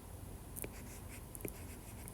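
Equations being written on a board during a quantum field theory lecture: faint, brief scratchy strokes, with two short marks standing out against a quiet room hiss and no talk.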